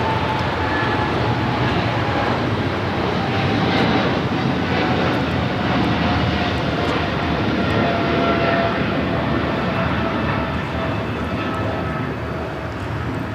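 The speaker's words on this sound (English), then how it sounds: "This is China Southern Cargo 446 taking off to Shanghai on the 777 freighter." At LAX, a China Southern Cargo Boeing 777 freighter takes off with a dense, continuous jet roar that stays loud and close throughout, carrying a thin steady whine over the rumble.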